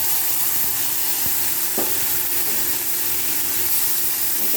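Onions, chilli and mustard-poppy seed paste fry in a pan with a continuous loud sizzle and hiss. A single brief clatter cuts in near the middle.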